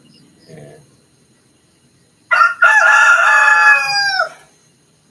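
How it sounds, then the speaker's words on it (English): Cockerels in a cage at a home in the Philippines crow one long, loud cock-a-doodle-doo close by, after a brief faint cluck and quiet surroundings. "cockerels are crowing."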